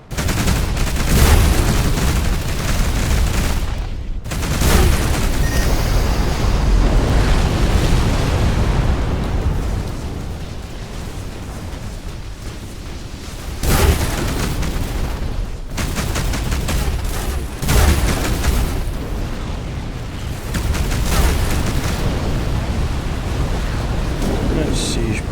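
Heavy cannon fire and explosions rage nonstop in a space battle in the video game Between The Stars, a loud dense barrage of booming blasts with brief pauses between volleys, and voices come through over the din.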